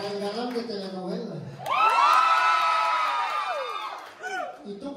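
Friends at a 22nd birthday celebration break into cheering and shouting, a lively burst of voices swelling for a couple of seconds before talk resumes nearby.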